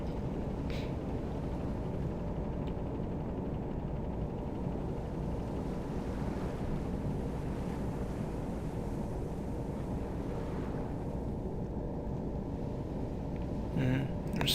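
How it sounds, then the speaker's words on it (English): Submarine in the game Silent Hunter cruising slowly at about three knots, a steady low rushing of water and hull noise at an even level throughout, with a faint brief sound near the end. "I'm doing 4 knots, well 3 knots, so that it could slice into the water."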